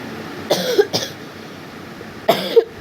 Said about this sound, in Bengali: প্রচণ্ড পরিমাণে কাশি হচ্ছে